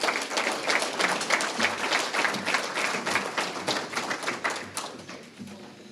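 A luncheon crowd at a leadership awards event applauds steadily with dense, lively clapping that holds throughout before easing slightly at the end.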